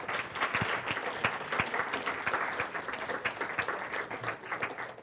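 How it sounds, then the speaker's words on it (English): A seminar audience applauds a speaker at an ocean studies talk, a moderately sized crowd clapping steadily, with individual claps standing out sharply for about five seconds. "let's give Lex a big round of applause."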